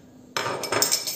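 Yogurt, eggs, salt, chili flakes and thyme being stirred in a bowl, a busy clinking and scraping that starts abruptly and runs steadily, close and fairly loud.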